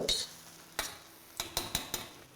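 Chicken chow mein is tossed in a pan, giving several sharp utensil clinks and scrapes against the metal over a soft sizzle, close and intermittent.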